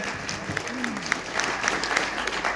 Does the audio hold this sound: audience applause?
yes